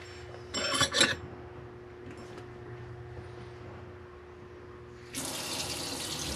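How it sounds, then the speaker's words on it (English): A newly installed residential faucet runs into a Class C RV kitchen sink, with a steady close water stream starting after some brief clattering handling noises. "Ooh, I like the faucet."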